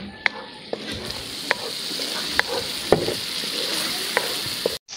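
Food frying in a pan gives off a loud, continuous sizzle, with regular sharp taps and scrapes from a spoon stirring it, then a brief cutoff near the end.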